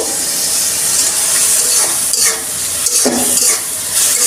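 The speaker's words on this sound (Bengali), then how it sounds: "এখন আমি শুটকি আর মশলাগুলো একসাথে কষিয়ে নিব ভালো করে" Washed dried fish (shutki) frying with spices in a pan for a kochur loti dish, with a loud continuous sizzle and intermittent scraping of the stirring utensil, close up.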